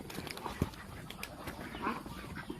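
Yi Liang ducks on a Thai farm give a few soft, scattered quacks amid quiet rustling, faint and irregular, with one short sharp call standing out briefly.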